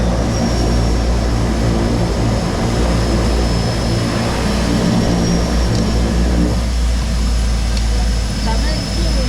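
Seaplane engine in flight, a steady loud propeller drone and hum heard from inside the cabin, constant throughout with a slight shift in tone partway, and voices talking over it.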